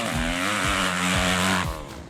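A 2009 Kawasaki KX250F motocross bike's four-stroke engine revving hard and high, its pitch rising and dropping in quick repeated surges, loud and close.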